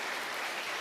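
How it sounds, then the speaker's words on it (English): Audience applause for a speaker at a cybersecurity talk, a short steady wash of clapping from a crowd, evenly loud without a break. "give him a great round of applause"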